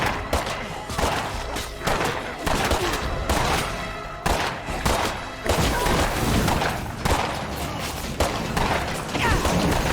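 Weapon gunfire in a video game comes as rapid, dense bursts of loud shots and thuds that repeat throughout, nearly continuous with brief pauses.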